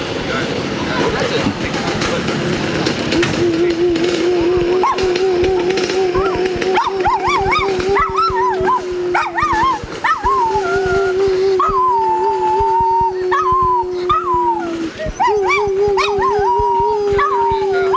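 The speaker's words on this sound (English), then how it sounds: "Don't blame the dog for howling, it hurts my ears too." A dog howls in the pit area of a 1990 hare scramble motorcycle race at Hollister Hills, with long, wavering, sustained howls that rise and fall. The howling is loud and close over constant background noise.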